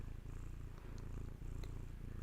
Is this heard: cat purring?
yes